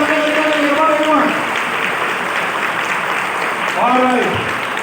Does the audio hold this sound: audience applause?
yes